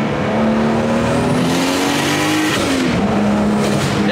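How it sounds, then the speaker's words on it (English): A 700-horsepower BMW 335i engine revs loudly at partial throttle, its pitch climbing steadily and then dipping briefly before settling again, close and continuous with no talk. "Doesn't sound like a blown motor to me."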